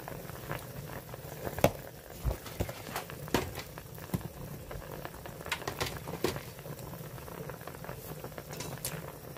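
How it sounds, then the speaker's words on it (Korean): A pot of ginseng chicken soup with jujubes and lots of garlic boils steadily, giving a continuous bubbling hiss broken by irregular pops and light taps, moderately close with no talking. "잘 끓는다."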